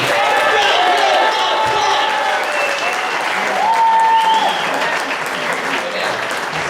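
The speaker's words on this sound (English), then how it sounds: "round of applause for Stephanie" A roomful of people at a voter-registration meeting applauds a volunteer named Stephanie. Dense, loud clapping runs unbroken from start to finish, with a few whistles and cheers riding on top.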